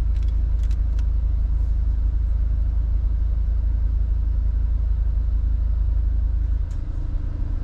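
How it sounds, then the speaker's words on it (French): A 300 hp 2020 Volkswagen T-Roc R with exhaust valves idles close by, giving a loud, steady low rumble that shifts slightly near the end, with no talking. "Écoute le moteur."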